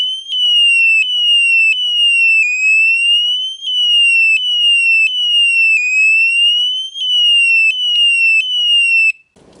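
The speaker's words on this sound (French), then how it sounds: "on va tester l'alarme, vous allez voir ça gueule bien" A loud electronic alarm from a Radikal RK10 anti-theft disc lock wails continuously, repeating a rising and falling piercing tone in regular cycles before cutting off abruptly at the end.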